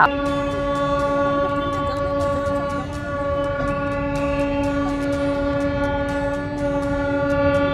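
At Joyrambati railway station a train's horn sounds in a long, steady, tonal blare lasting several seconds, loud and close, over a low engine rumble with faint clicks.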